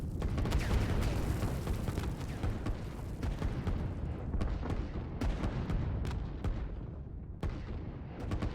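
Artillery fire in the Line War strategy video game, a steady barrage of booms and cracks overlapping densely, with sharper individual shots standing out later, fairly quiet overall.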